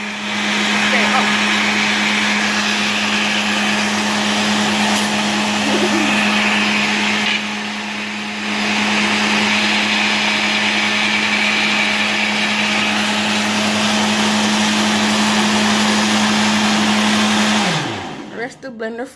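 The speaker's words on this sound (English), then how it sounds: "Rest the blender for a little while." A blender runs steadily on a pineapple, beetroot and ginger smoothie, a loud continuous whirring drone that holds for about seventeen seconds before winding down at the end.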